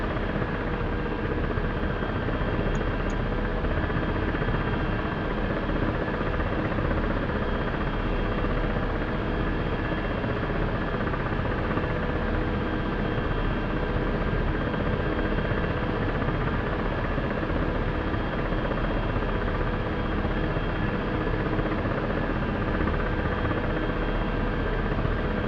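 A Black Shark helicopter in a flight simulator game drones steadily through takeoff, a constant whirring rotor and engine hum with a low throbbing beat, unchanging and moderately loud for the whole stretch with no voices.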